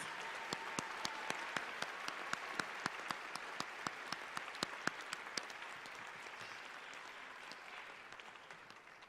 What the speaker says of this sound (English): Let's have another round of applause for those receiving master's degrees.